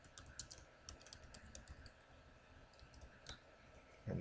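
Quick bursts of clicks from typing on a computer keyboard, sparse and irregular, close but quiet, with no talk and a thump at the end.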